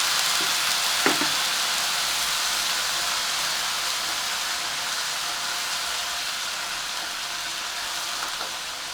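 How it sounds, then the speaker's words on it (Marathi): A spice paste for a cabbage dish sizzles steadily in a hot pan, a continuous bright frying hiss with a brief clink of a utensil near the start. "हे थोडंसं परतून घ्यायचं आहे आपल्याला"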